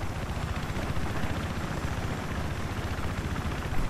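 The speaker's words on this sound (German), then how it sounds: "Komm, da ist unser Heli." Helicopter in the video game Battlefield 3 arrives with a loud, steady thudding rotor chop and engine roar that fills the scene and stays close throughout.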